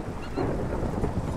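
Brief Minecraft thunderstorm: a burst of low rumbling thunder layered with rain hiss, loud and close, without speech.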